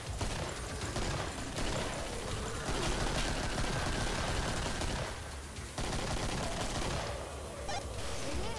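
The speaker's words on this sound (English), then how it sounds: "I'm shooting all the bullets." Dense, continuous gunfire from the video game Killing Floor, rapid bursts running almost without pause and loud throughout, with brief dips in intensity between volleys.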